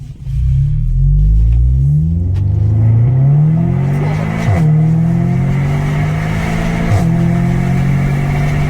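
Audi S3 with 300 hp on a road test, its engine rumbling loudly from inside the car with rising and falling revs as it accelerates and shifts through gears, steady road noise beneath.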